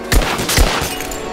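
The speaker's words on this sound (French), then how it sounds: "Son pistolet fait un bruit alors qu'il y a un silencieux dessus." In Rise of the Tomb Raider, a pistol fitted with a silencer fires two loud, punchy shots about half a second apart, each with a booming low thump and a short crackling tail.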